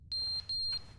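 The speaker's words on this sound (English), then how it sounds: "Fire alarm? Was it always there?" Fire alarm in the game The Stanley Parable: Ultra Deluxe gives two sharp, high electronic beeps in quick succession, piercing and evenly spaced, with nothing else heard.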